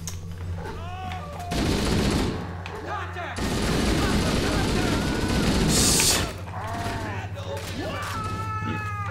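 Weapon fire in Halo: Combat Evolved comes in two dense sustained bursts of rapid shots, loud and close, with players chattering before and after.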